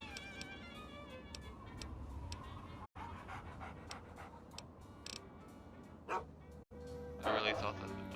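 A dog pants in Fallout 3 Point Lookout, rapid rhythmic breaths over game ambience with ticking and other game effects, fairly quiet, with a brief louder burst near the end.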